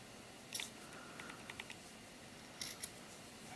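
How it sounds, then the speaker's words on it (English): Scissors trim sheepskin fur on a small doll vest, giving a few quiet, close snips spread out over a few seconds, with soft crisp cuts in near silence. "if you have too much fur here that you don't like, just trim it down"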